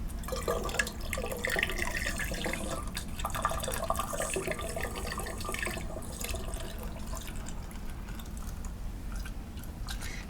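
Water kefir pours from a bottle into other bottles, giving soft, steady liquid trickling and splashing with faint drips. The sound stays quiet and close, without speech.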